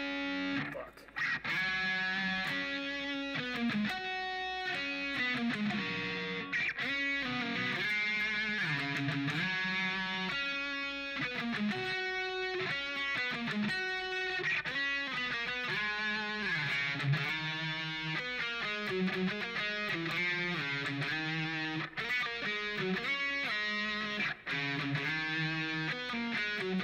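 A film theme played on a heavily distorted electric guitar drenched in reverb, a loud, continuous melodic line with sustained, saturated notes running steadily from start to finish.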